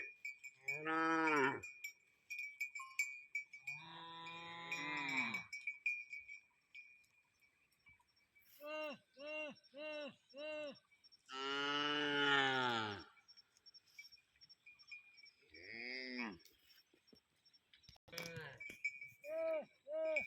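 Cattle moo repeatedly, long drawn-out lowing calls from several animals, some near and loud, others shorter and fainter, with a cowbell clinking steadily in the background.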